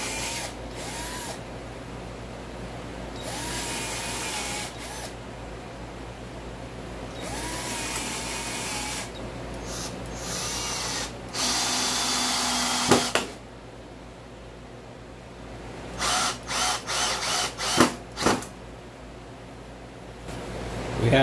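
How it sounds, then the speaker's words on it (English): A HART 20-volt cordless 1/2-inch drill/driver boring pilot holes: repeated short whirring bursts of the motor spinning up and winding down, with brief gaps and a close, moderately loud tone. "we'll put some pilot holes in here real quick"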